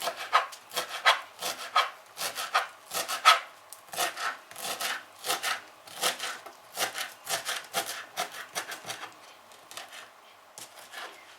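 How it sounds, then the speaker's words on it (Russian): Fresh parsley chopped with a knife on a wooden board: a long run of quick, crisp taps in an uneven rhythm, close up and fairly soft, with no voices. "Нарезаем зелень петрушки."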